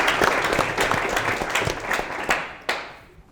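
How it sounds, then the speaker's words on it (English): An audience at a 2015 meet-the-candidates event for Spanish Fork council breaks into brief applause, dense clapping that thins out and fades within a few seconds, ending with a couple of last claps. "We can applaud, right?"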